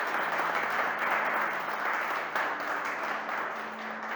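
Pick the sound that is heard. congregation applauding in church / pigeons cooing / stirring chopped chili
congregation applauding in church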